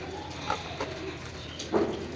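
A pigeon coos a few soft, low notes close by, with quiet background noise in between.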